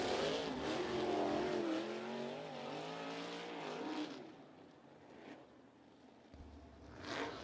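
Sprint race cars in a USAC sprint car field idle around the bottom of turns one and two at Ocala Speedway, a loud rumbling engine drone with shifting harmonics that fades after a few seconds, with another engine rising near the end.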